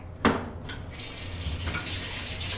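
A tap in a home laundry area is opened and water runs steadily into a basin, a close, continuous splashing gush after a sharp knock at the start.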